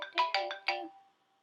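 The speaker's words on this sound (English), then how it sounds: "What is your ringtone? It's that maramba like thing." Marimba-like phone ringtone chiming a quick sequence of five mallet-toned notes, fairly faint, with the last note fading out into silence.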